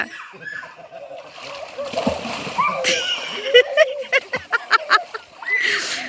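Water splashes and slaps repeatedly in a village pond as a person struggles to swim, with rhythmic bursts of splashing under excited talk and laughter.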